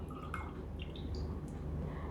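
Lemon juice poured into a glass tumbler of water gives a brief, faint trickle with a few soft drips, heard close against a quiet background.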